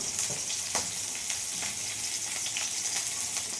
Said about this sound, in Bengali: আমি জিরে দিয়ে দিয়েছি ফোড়নে